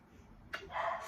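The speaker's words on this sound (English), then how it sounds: "That's Paris barking now." A small dog named Paris gives a quick, faint yip or bark indoors, one or two brief sounds at a distance.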